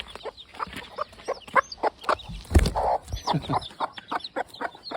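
A gamefowl hen, a protective mother with fresh chicks just off the nest, clucks repeatedly at close range in a steady series of short calls, with a brief rustle or thump midway.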